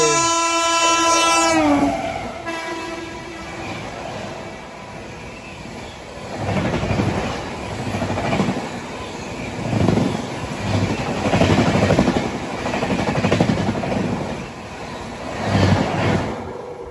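The Telangana Express passes on the adjacent track, opening with a loud horn blast that stops within two seconds, followed by a long rolling rumble of wagons with rhythmic surges of clatter as the coaches go by.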